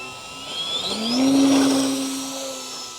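An Eclipson 3D V2 RC model plane's electric motor spools up for takeoff, a rising high whine that swells to a peak mid-clip and eases slightly, heard alone and close.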